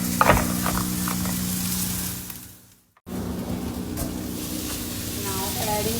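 Green zucchini goes into a hot pan and a loud sizzle of frying with stirring scrapes fills the moment, briefly dropping out before the crackle resumes just as strong.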